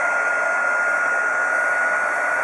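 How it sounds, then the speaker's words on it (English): Hot air gun blowing to shrink heat shrink tubing on an Apple IIe S-Video and composite cable, a steady, close, loud whirring hiss with an even fan tone throughout, no talking. "hot air gun"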